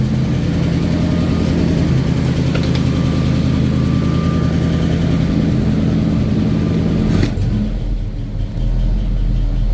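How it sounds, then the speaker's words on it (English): A Ford F350 engine idles steadily at close range, a continuous low rumble with a constant drone, running unchanged throughout with a brief shift near the end, and no talk. "Throttle it down and it sits there idle."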